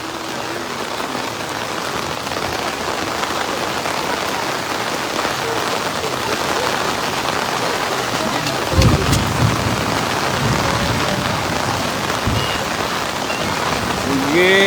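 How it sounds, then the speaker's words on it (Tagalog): Steady heavy rain pours throughout during flooding on Commonwealth Avenue, Quezon City, with a couple of low thunder rumbles rolling in near the end. "Isang ulan."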